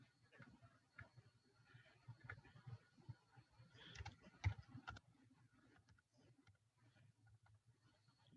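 Quiet, scattered keystrokes on a computer keyboard come in short irregular bursts while text is entered, faint and close, with a slightly louder cluster of clicks midway.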